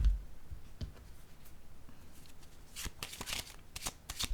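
A tarot card drawn from a deck, heard as a short run of soft papery slides and rustles, close and quiet, with a few sharper flicks of card near the end.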